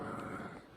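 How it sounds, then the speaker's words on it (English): A puppy growling softly while biting a slipper indoors, a brief low rumbling growl up close lasting under a second, with no talk over it. "Do you hear my little puppy biting my slipper?"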